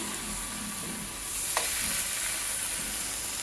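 Sauce sizzling steadily in a samgyupsal grill pan, a constant close hiss with faint stirring scrapes and a brief sharper spike midway.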